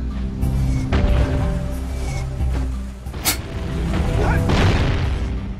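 Bombs landing and exploding in the video game Jak and Daxter at Sentinel Beach, with heavy booms and crashing impacts over a steady backing music track, loud and close.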